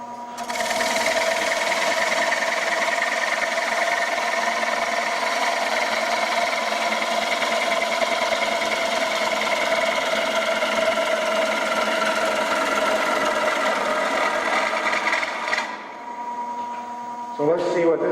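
Sustained mechanical chattering of a cutting tool that has lost its bevel, a buzzing rattle with strong harmonic drone running close and loud for about fifteen seconds before stopping.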